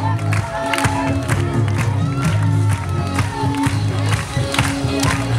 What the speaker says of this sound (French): Et on les applaudit en les laissant.